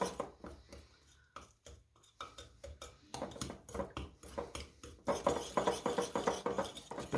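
A Dutch (Danish) whisk stirring banana bar batter in a bowl gives quick, rhythmic scraping and clinking strokes, close and steady, growing a little louder and busier toward the end.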